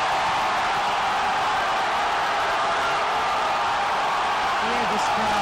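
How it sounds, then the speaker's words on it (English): A large football crowd at the Rizal Memorial Football Stadium roars on and on after a goal in a Philippines versus Tajikistan match, a dense, far-off wall of cheering with a commentator talking over it. "Hear this crowd."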